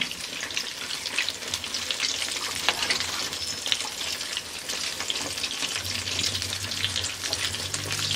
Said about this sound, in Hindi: एक तरफ से हमारे काजे फ्राई हो गया, अब दूसरी तरफ से हम इसको साइड चेंज कर देंगे